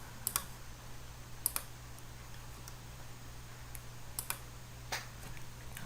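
Sparse, sharp clicks of a computer keyboard and mouse during shortcut work in design software, scattered irregular taps over a low steady hum, with no talking.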